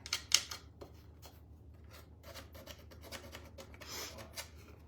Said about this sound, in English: I just have this little sanding thing, and I'm just gonna go in here